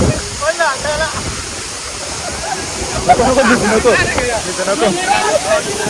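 Rushing water roars continuously close by at the Chondhe waterfall in Shahapur, Thane, while people talk loudly over it.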